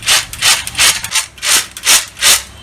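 Raw peanuts rubbed by hand to loosen their skins for groundnut chutney: a close, dry rasping swish repeated in a steady back-and-forth rhythm.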